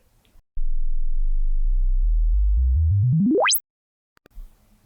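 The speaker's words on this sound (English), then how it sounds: "the continuous log sweep plays across all frequencies in the range with the defined sweep rate per decade" A continuous logarithmic sine sweep test tone climbs smoothly from a deep low hum to a high whistle over about three seconds, then stops abruptly.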